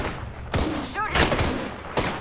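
Apex Legends gunfire hits hard in two loud, sharp bursts roughly a second and a half apart, with busy combat noise and a chirping tone between them.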